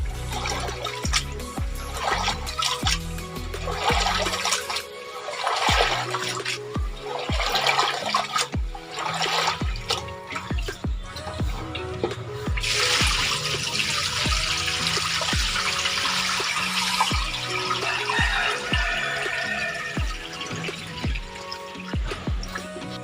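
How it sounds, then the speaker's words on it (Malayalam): Water splashing and pouring in a vessel with repeated sloshing and knocking as rice grains are swirled and rinsed for biryani, close and fairly loud, no talking. "ഒരു 2-3 പ്രാവശ്യം നന്നായിട്ടൊന്ന് കഴുകിയെടുക്കും"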